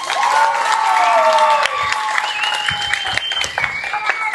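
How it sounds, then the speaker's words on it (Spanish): An audience claps for guest artist María Galindo, with brief, moderate applause mixed with whistles and a few voices calling out, lasting a few seconds. "Así que un aplauso, por favor, para ella."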